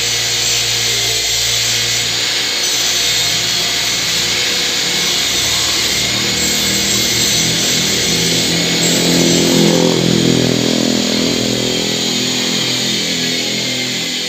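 An angle grinder works continuously and loudly, smoothing freshly deposited weld on the threaded axle end of a Shineray motorcycle, a steady harsh whine with no talking.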